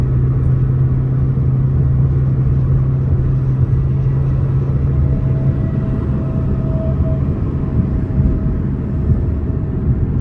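Steady low road rumble and engine drone fill the inside of a car on a ride, constant and close throughout with no talking.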